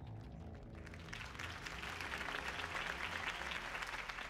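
Crowd applause in the video game Batman: The Telltale Series swells in after a quiet start, a dense wash of clapping mixed with a low background tone, fairly faint and distant.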